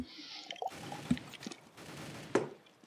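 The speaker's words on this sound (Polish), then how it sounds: "może słyszeliście jak pięknie zabrzmiał dźwięk wylewanego piwa do mojego gardełka?" Beer being poured and gulped down during a Counter-Strike: Global Offensive session: short wet drips and splashy liquid gurgles come in bursts, close to the microphone, mixed with faint game noise.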